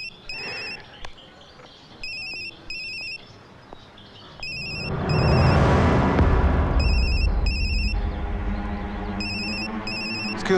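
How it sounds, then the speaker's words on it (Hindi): A phone's electronic ringtone trills in short repeated bursts of bright beeps, each followed by a pause, while a low rumbling swell of dramatic background sound builds partway through. "आपका फोन बज रहा है, उठाएंगे नहीं?"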